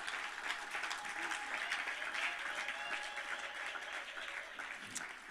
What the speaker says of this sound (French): Donnons encore une acclamation au Seigneur